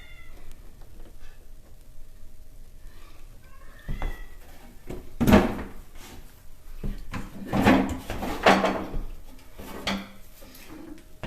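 Dresser drawer opened and closed indoors in a craft room, giving a few wooden sliding thumps and knocks around the middle, with a cat meowing faintly in the background.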